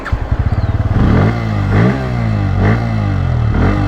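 A Bajaj Pulsar N160 motorcycle with a basic stock exhaust, close by: it starts with a rapid idle putter, then revs up, holds, and blips repeatedly in rising and falling surges, loud and alone.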